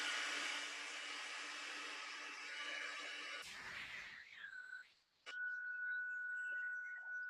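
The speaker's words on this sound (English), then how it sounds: "I'm going to bring in the heat tool once again. We'll heat that up and we'll emboss that sentiment" Embossing heat tool blowing hot air onto a stamped sentiment, a loud, steady whooshing roar for several seconds, then a whine whose pitch sweeps and settles into a steady tone, followed by a brief dip and the blowing resuming.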